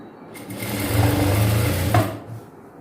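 A sewing machine runs steadily while stitching a chudidhar top at a tailoring lesson, a close mechanical whir that swells and eases over a few seconds with no talking.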